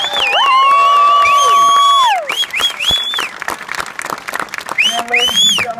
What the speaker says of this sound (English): please join me, if you would, in a round of applause to show your appreciation.